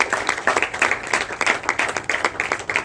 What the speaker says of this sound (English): Ladies and gentlemen, can I have a round of applause for these amazing two boys?